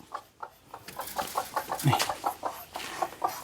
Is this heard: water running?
no